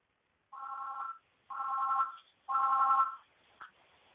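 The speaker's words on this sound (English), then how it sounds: "The phone in the conference room where I'm hiding out is ringing." A conference room desk telephone rings in three evenly spaced electronic bursts about a second apart, fairly clear and close, followed by a brief faint click.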